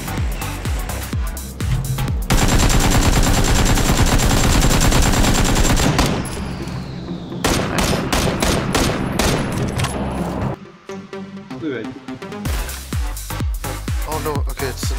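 Dense bursts of automatic gunfire from PUBG, a battle royale shooter, rattle on and off through the whole stretch, loud and close, with rapid volleys, brief pauses and a few separate single shots near the end.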